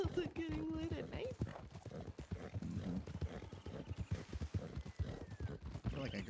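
Rapid clip-clop of horse hooves during riding in a video game, a dense rhythmic galloping beat throughout with a brief whinny-like tone early on, while people talk over it.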